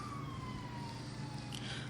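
Distant emergency sirens wail in Silver Lake, a faint, slowly falling tone drifting over a low steady hum, heard alone without talk.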